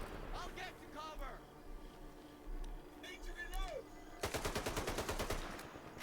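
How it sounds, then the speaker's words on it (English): Rapid burst of gunfire cracking in a fast, evenly spaced string near the end, preceded by people talking. "What are you folks shooting at?"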